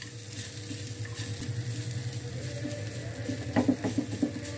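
Beetroot and garlic sizzle steadily in a pan on low heat, with a few clinking stirs near the end, close and alone with no voices.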